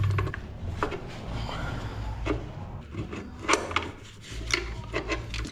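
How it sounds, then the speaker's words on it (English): Socket wrench loosening a roughly 24–26 mm nut on the engine of a second-generation Toyota 4Runner during valve cover gasket work: faint scraping and rubbing clicks, a few sharper ticks, quiet and close, no talking. "So I'm just gonna use my Ukrainian socket set here."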